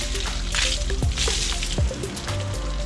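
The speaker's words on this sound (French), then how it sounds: "je profite de vider le reste du seau sur le vélo" Leftover water from a bucket sloshes over a soaped mountain bike, a close, loud splashing pour with dripping and wet squishing against the frame throughout.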